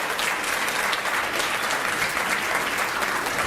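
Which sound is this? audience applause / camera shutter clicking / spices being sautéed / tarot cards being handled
audience applause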